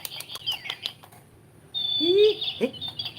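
A pet bird being fed gives a few short, bright chirps close by, along with some wing flutters and light rustling, after a quieter stretch.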